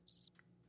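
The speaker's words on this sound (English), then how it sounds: "Do we hear the crickets?" Cricket chirping sound effect: one short, clear burst of a few rapid high trills, followed by near silence with a faint hum.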